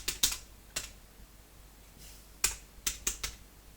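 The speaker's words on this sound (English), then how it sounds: "Look at me typing." Sparse keystrokes on a brand-new computer keyboard with a faulty feel, sharp close clicks in small irregular bursts separated by quiet gaps.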